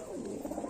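A pigeon offered for sale gives a single brief, soft, low coo, faint and close, with nothing else around it.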